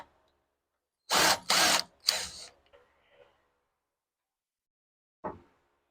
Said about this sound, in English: I'm going to take this bolt off.